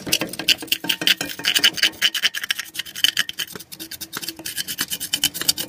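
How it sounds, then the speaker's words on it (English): Dried sea salt made from seawater is scraped off a cooled pan, a loud, close, steady rasping in rapid repeated strokes with gritty scratching throughout. "We're going to try to scrape this off."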